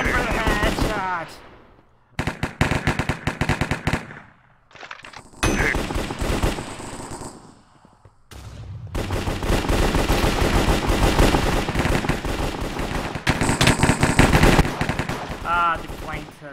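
Gunfire from a gun in Minecraft zombies mode: loud bursts of rapid automatic shots, several volleys separated by short pauses, with brief fragments of shouting.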